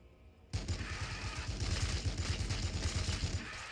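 Sustained gunfire in the Warhammer 40K Battlesector strategy game: a rapid, steady burst of shots begins abruptly after a brief quiet moment and continues loud and rhythmic to the end.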